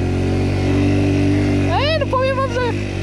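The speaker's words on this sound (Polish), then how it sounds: "Zobaczymy, czy wyjedzie ten skuter." A tuned 80 cc scooter engine runs steadily on an off-road enduro trail, a close droning hum, with a rising and falling whine-like tone partway through and a voice briefly over it.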